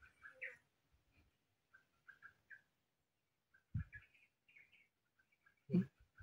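Small birds chirping outdoors in scattered short calls, faint and sparse with quiet gaps between, plus a few soft thumps.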